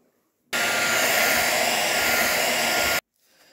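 A hair dryer switches on abruptly, held about 30 cm from PVA glue on a craft decor piece. It blows a loud, steady rush of air for about two and a half seconds, then cuts off sharply into quiet.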